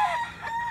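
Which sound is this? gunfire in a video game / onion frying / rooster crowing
rooster crowing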